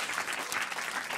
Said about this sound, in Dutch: Applaus voor de dames!